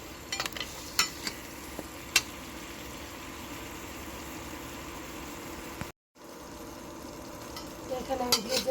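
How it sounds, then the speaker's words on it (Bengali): Chicken meat stirred and frying in a pan, a quiet steady sizzle with occasional spoon knocks and scrapes, briefly cut to silence midway, then resuming with a few more clinks. "এখন আমি ভালো করে মাংসগুলো নেড়ে দেবো। নেড়ে এগুলো মাংস সব কষিয়ে নেব।"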